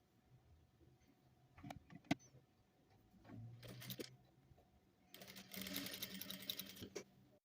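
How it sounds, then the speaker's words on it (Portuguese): Sewing machine stitching a seam on a fabric Mondrian-style bag: scattered clicks and handling noises first, then a short whirring run and a longer steady buzzing burst of stitching near the end, fairly faint. "passar uma costura exatamente no vinco e só depois eu vou agregar o vermelho"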